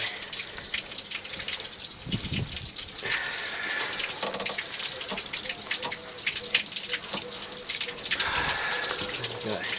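Coolant gushes steadily out of a Ford's radiator and thermostat housing during a coolant change and heater matrix flush. The liquid pours continuously and loudly for several seconds, with faint talk and handling noises underneath.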